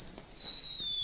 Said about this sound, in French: J'aime ça, les feux d'artifice.